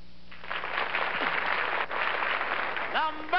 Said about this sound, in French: Par l'intensité des applaudissements, le public du studio désignait la lauréate.